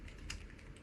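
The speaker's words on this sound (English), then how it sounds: "You're putting your fingers on the keyboard and then it's making noise" Quick, light taps of typing on a computer keyboard, a short burst of close keystrokes.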